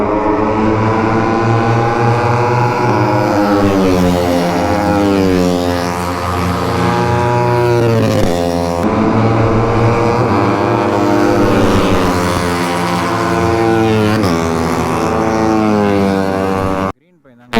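Superbikes race around the MMRT race track, their engines whining in long rising and falling sweeps as they pass one after another, loud and continuous, with people talking nearby.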